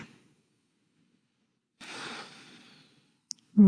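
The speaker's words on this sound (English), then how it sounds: "One more full breath." A single slow exhale through a constricted throat in yoga Ujjayi breathing, a soft, breathy rush lasting about a second after a quiet pause, followed by a short sniff.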